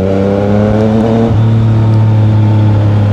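A Yamaha Niken 900 motorcycle accelerates hard on a highway. Its loud, close engine drone rises in pitch, drops sharply at a gear shift, then climbs again.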